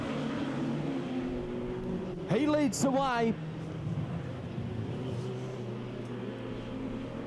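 Speedway race cars run around a dirt track at night at Ruapuna Speedway, a steady distant engine drone with one brief louder pass, under a commentator's voice.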